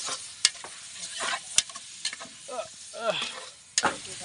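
Chicken sizzles and hisses in a hot oiled pan, stirred with sharp utensil scrapes and knocks against the metal, close and lively, with voices chatting faintly.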